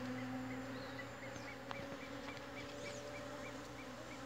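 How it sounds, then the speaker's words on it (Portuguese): A steady hum of many honeybees buzzing close by on cipó lixa flowers in Rondônia, Brazil, a dense continuous drone with individual insects passing, no voices. "Como as abelhas gostam dessa flor."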